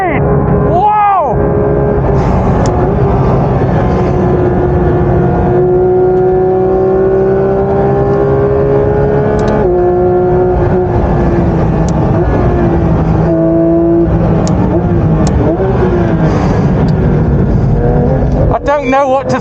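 A Porsche 992 GT3 RS with a naturally aspirated engine is driven flat out around the Spa circuit, its loud, high-pitched wail rising through the gears with sharp shifts and drops, heard from inside the cabin.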